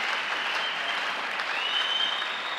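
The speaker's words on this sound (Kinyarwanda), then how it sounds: "Reka dukomere Imana yacu amashyi menshi" A church congregation applauds at a bishop's service, a dense, steady wash of clapping that holds evenly from start to finish without pauses or voices.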